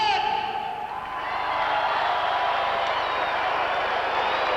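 A crowd at a 1986 monster truck show cheers for the First Blood truck, a broad, steady wash of distant cheering and faint applause that swells after the first second and holds.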